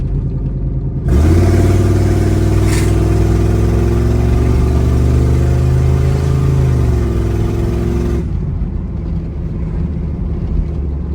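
A 1995 Chevy Suburban 2500 cowboy conversion accelerates on a test drive, its engine droning loud and steady with rising then easing pitch for about seven seconds before dropping back to a quieter cabin rumble.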